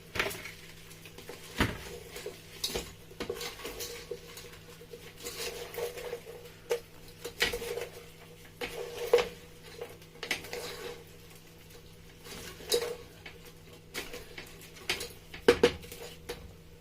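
Fried fish and tomato sauce stirred in a cooking pot for jollof rice, with repeated scraping and knocking of a utensil against the pot, irregular and close, over a low steady hum.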